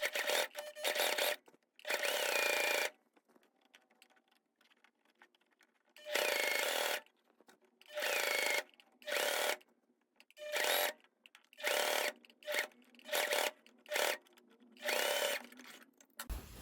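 A sewing machine topstitches a blouse in repeated bursts of stitching, each one to two seconds long, separated by short pauses, close and clear with no talking.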